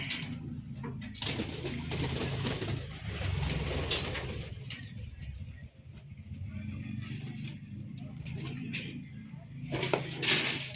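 Pigeons coo in low, throaty, repeated calls close by, amid background chatter and occasional rustling.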